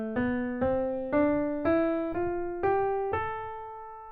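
A natural minor scale played on a single instrument: seven evenly spaced plucked notes climb stepwise, each decaying before the next, clear and close with no talk.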